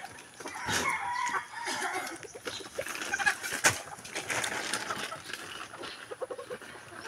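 Chickens cluck and squawk nearby while a rooster crows, a busy barnyard chorus with faint background noise.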